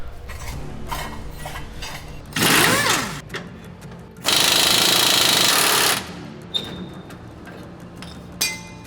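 A pneumatic air hammer busting rivets out of a 1969 Chevrolet C10 truck frame, heard as two long, loud bursts of rapid hammering separated by quieter workshop noise and metallic clinks.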